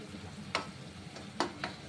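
Soya manchurian sauce mixture simmers quietly in a pan while a spoon stirs it, a soft low bubbling broken by a few faint scraping clicks.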